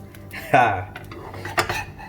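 A spatula knocks and scrapes against a pan while an oatmeal banana pancake is flipped, giving two sharp metallic clatters close by.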